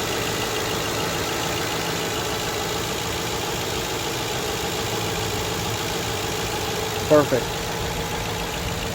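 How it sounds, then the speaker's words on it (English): A 2011 Ford Crown Victoria Police Interceptor engine idles with a steady, even low rumble throughout, close by, with one brief spoken word near the end. "you can get to hear the actual engine idle."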